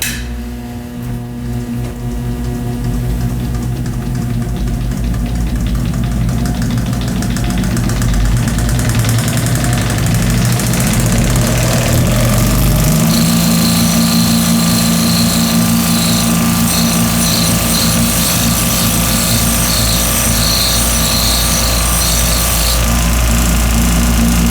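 Multi-tool refinishing machine resurfacing the face of a golf driver during club repair, a steady loud motorized whine and buzz that runs continuously, shifting pitch and growing a little louder partway through as the tool meets the clubface.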